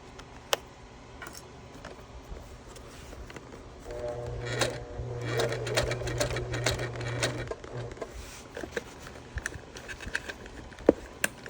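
A domestic sewing machine runs slowly through a short back stitch while a bag is assembled. Soft ticks and clicks come first, then a brief steady whirring burst in the middle before quieter clicking resumes.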